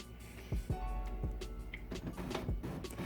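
A Brother MFC J4510DW inkjet printer runs a print quality test page, its print head carriage whirring with repeated thumps and mechanical clicks in an uneven rhythm, close and moderately quiet, with no talk.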